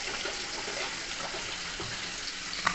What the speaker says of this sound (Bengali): তাই জন্য এরপর একটু জল বসিয়ে দেবো।